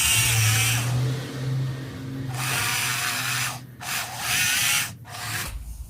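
A drill bores through a small workpiece from its second side to meet a hole started from the first, making a steady close grinding whir with a low motor hum and two brief dips where the bit eases off.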